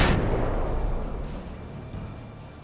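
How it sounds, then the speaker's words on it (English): A flashbang grenade goes off in Alan Wake Remastered, one loud close burst that decays into a long, noisy rumbling tail. "Did he just drop a flashbang at his feet?"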